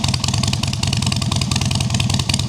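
A 2016 Softail Slim with a Bassani exhaust, Stage 1 tune and Hines air filter, its engine running steadily close by with a deep, continuous, lumpy rumble and no voices.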